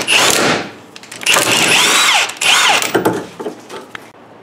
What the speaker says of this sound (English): And use a pitman arm puller.